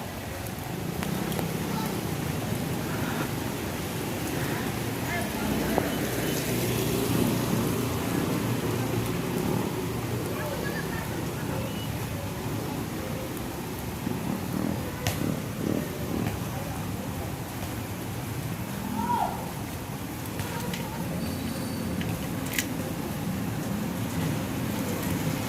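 Steady rain patters and hisses close by for the whole stretch, a constant wash of noise with occasional louder drops and faint voices underneath.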